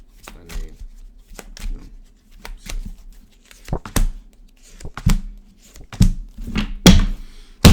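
Oracle deck cards being shuffled by hand, heard as a series of sharp riffling thumps and slaps in uneven bursts, close and fairly loud with no talking.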